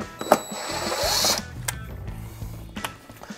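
Screws being removed from a car dashboard with a power driver: a brief whirring burst, then scattered clicks and small metallic taps close by, with no talking.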